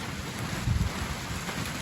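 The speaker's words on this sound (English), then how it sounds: "I only got about 5 buckets moved before it started raining." Heavy rain pouring down outdoors on a muddy worksite, a steady dense hiss with a brief low rumble partway through.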